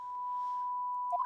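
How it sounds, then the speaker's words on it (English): A steady high sine-like ringing tone sustains alone as a ringing-in-the-ears effect in the Professor Layton vs. Phoenix Wright: Ace Attorney video game, with a couple of brief chirping blips at the close. "The ringing in the ears."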